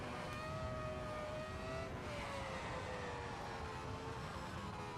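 A V10 engine of a Formula 1 race car in a racing video game on the Nürburgring, a steady, faint high-pitched whine that rises and falls gently through the gears.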